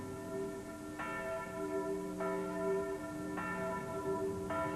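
Church bells cast at the John Taylor bell foundry in Loughborough ring out in four evenly spaced, bright strikes, each leaving a long shimmering hum that overlaps the next; steady and fairly loud, with no voices.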